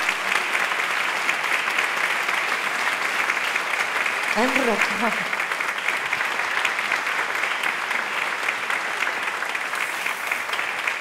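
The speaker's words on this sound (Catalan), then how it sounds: "Doncs un aplaudiment molt gran." Sustained audience applause at a book presentation event, a loud, even wash of many hands clapping for the full stretch, with a brief spoken voice surfacing midway.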